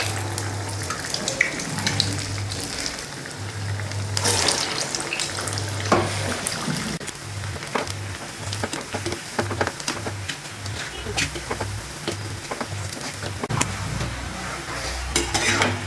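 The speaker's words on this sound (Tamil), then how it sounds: "அதை அப்படியே எண்ணெயில் போட்டுக்கணும்." Ulundu vadai, a South Indian urad dal fritter, fries in hot oil with continuous bubbling sizzle, punctuated by a low repeating hum and occasional clinks, no voices.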